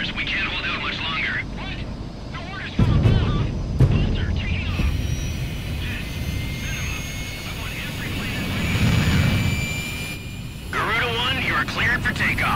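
Jet fighter engine roar building for takeoff in the combat flight game Ace Combat 6, a steady loud broadband rumble with brief thumps, heard under game radio chatter and voices talking.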